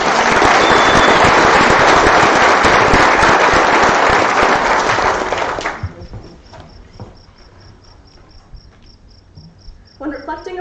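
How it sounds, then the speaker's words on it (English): A graduation audience applauds the class of 2021 at Proctor High School, a dense, loud roar of clapping that stops abruptly partway through, leaving a quiet room with faint rustles. "Let's give a round of applause for the class of 2021."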